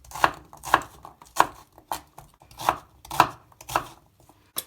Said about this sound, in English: cut everything roughly the same sort of size so it all cooks at the same time